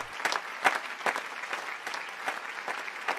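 Scattered audience applause after a school play, with several distinct claps standing out over a steady patter of smaller hand claps, fairly soft and without voices.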